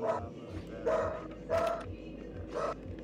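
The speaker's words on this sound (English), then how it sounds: "Tell that dog to shut it." Several sharp dog barks at a steady pace over constant background noise, each one short and fairly close, heard during a game of Minecraft.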